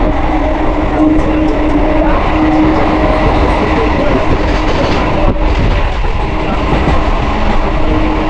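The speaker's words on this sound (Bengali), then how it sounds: "ডানকুনি লোকাল যেটা দক্ষিণেশ্বর যাচ্ছে" Dankuni local train bound for Dakshineswar, recorded from inside as a loud, continuous rumble and rattle of wheels on track with steady clattering throughout.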